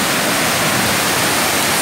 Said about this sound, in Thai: ดูน้ำตกครับพี่น้อง